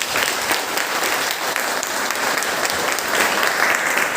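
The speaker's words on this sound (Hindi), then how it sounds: "तालियां" Audience at a Brahmakumaris Janmashtami celebration clapping loudly and continuously, a thick wash of many hands close by with no voices over it.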